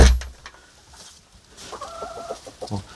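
Chickens cluck nearby in short, uneven bursts, with a few higher-pitched calls joining toward the end and no talking.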